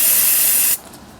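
Choke cleaner sprays into the carburetor of a 1946 Ford Super Deluxe flathead V8 as a loud, steady hiss that lasts under a second before cutting off abruptly.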